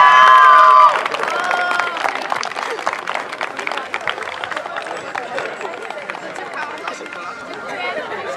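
Crowd at a youth athletics memorial meet's medal ceremony applauding and cheering, a steady noisy mix of clapping, chatter and shouts from many people, with a loud announcer's voice at the start.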